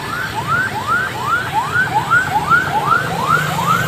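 Another fire engine arrives at a large blaze in the Cikarang area, its loud wailing siren sweeping up and down in rapid repeated cycles over a low engine rumble.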